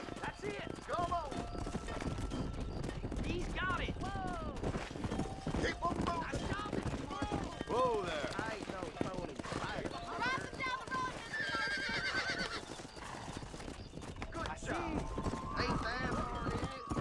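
Horses in the Red Dead Redemption video game, with steady clip-clop hoofbeats under a running stream of speech and repeated neighs and whinnies while cattle are herded.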